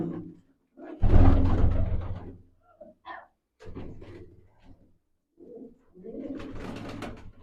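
Pigeons belonging to Jassi Bhangar coo in soft, separate bursts, with a louder rustling stretch near the start and short calls spaced across the rest.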